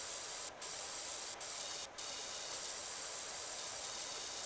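A pressure washer in Power Wash Simulator sprays water in a steady, loud, broad hiss that cuts out briefly three times before running on continuously.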